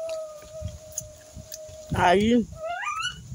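A confined dog lets out a rising, wavering howl that slides into a whimper, then a second thinner whine follows. It is fairly close, with people talking and background noise around it.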